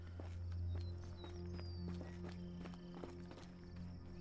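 A horse walks in the Sherlock Holmes: The Awakened video game, its hooves clip-clopping in a steady, even rhythm at moderate distance over a low droning ambience, with no voices.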